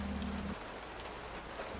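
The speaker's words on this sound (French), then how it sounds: "Il pleut." Soft, steady hiss of rain falling on a surface, faint and continuous, with a low hum briefly underneath.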